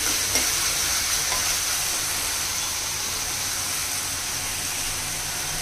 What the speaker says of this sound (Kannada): ಹಾಗೆ ನಾನಿವಾಗ ಇಲ್ಲಿ ಒಗ್ಗರಣೆಯಲ್ಲಿ ಹಾಕ್ತಾ ಇದ್ದೀನಿ